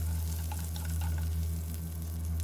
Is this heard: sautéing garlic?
yes